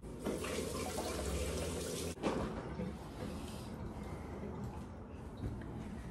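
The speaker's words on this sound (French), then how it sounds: "Je vais rincer." Tap water runs steadily into a sink for rinsing, a continuous close splashing flow with a brief stronger gush partway through.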